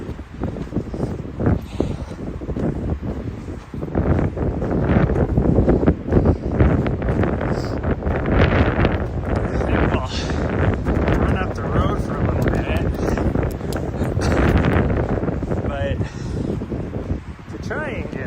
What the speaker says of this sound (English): Ooh, the wind is stronger.